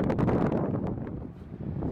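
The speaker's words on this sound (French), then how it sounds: "il y a du mauvais vent" Gusty wind on a surf beach at Moliets buffets the microphone with a steady low roar and rumble, loud and close throughout.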